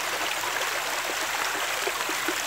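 A stream flows outdoors among trees, its water giving a continuous bright babbling rush with small trickling splashes scattered through it, close and steady, with nobody talking.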